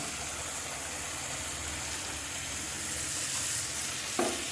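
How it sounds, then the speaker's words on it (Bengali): Hot spice paste with coriander leaves sizzling and frying steadily in a pan as water is poured in, a continuous close hiss with a brief louder burst near the end. "এখন আমি এটার মধ্যে দিয়ে দিচ্ছি জল।"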